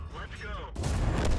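A tank cannon fires in a tank battle video game, a sudden loud broadband blast that cuts in halfway through, over sustained engine rumble and a commentator's voice.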